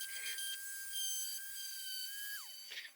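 A power sander whines at high pitch against the wing tip part of an RV-14A aircraft, a steady mechanical tone that drops sharply near the end as the tool spins down, quiet and alone.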